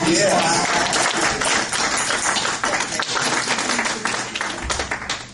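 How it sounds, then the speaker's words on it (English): Brisk, close applause from a small group at a city board of works meeting, with dense overlapping hand claps running steadily for several seconds and no clear speech. "Can we have a motion for applause?"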